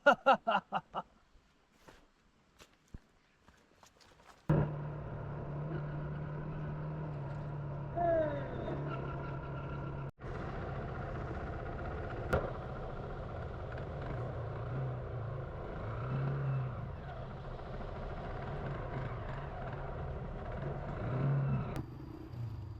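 A motorbike on a road in northern Vietnam: a short stretch of clicks and handling gives way to a steady, droning engine with wind rumble and occasional rises in revs as it rides on.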